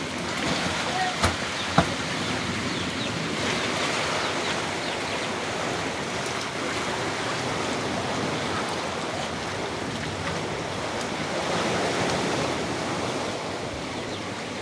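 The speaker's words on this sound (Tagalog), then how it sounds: "Sinabayan pa ng ulan." Wind-driven rain and surf roar steadily by the sea during a storm, a continuous broadband wash with a couple of brief knocks early on.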